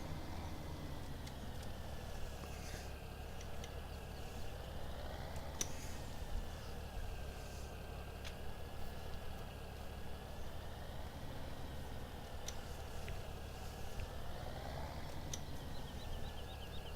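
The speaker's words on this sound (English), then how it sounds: "does a great job, this tractor, but it's not very good on the turns" A farm tractor from 1965 runs at a steady, low idle-like drone. The engine hum is continuous and moderately faint, with faint periodic rises, and no talking is heard.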